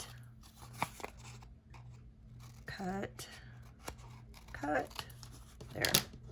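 Scissors snip and tear through paper for a handmade junk journal, a few close crisp cuts and crinkles with a soft voice speaking around them.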